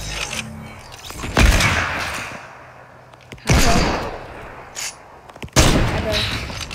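Sniper rifle shots ring out in a no-scope video game match as three loud, booming single reports spaced a couple of seconds apart, each trailing off, with a voice talking faintly in the background.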